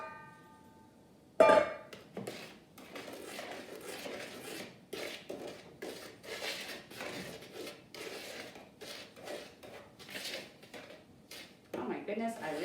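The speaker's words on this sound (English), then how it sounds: "I just add my dry ingredients to my wet and stir them to combine" Dry ingredients worked into wet cake batter with a utensil give repeated soft scraping and knocking against a bowl, in bursts close by, with a voice talking now and then.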